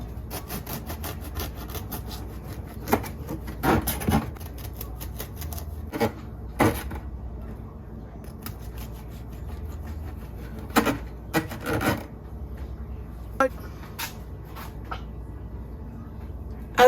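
A knife works through a moist Jamaican coconut cake (ToTo), giving soft scraping and rasping strokes with occasional knocks on a board, close and fairly quiet.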